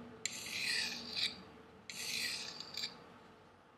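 A knife blade drawn lightly through a sharpener twice, giving two distinct rasping, scraping strokes, close and fairly quiet, with no talking.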